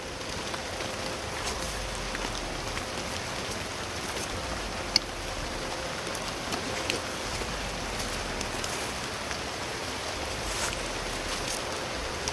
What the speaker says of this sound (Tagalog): lakas na naman yung ulan